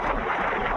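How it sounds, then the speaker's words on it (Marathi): Strong wind on a mountain trek between Naneghat and Bhimashankar buffets the microphone in a loud, continuous roar, with no other sound. "जोरदार वारा येतो माझ्या इकडे"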